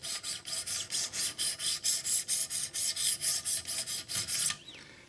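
A knife is drawn across a 600-grit sharpening stone on a fixed-angle system, giving a rapid series of about twenty evenly spaced raspy scrapes up close before it stops.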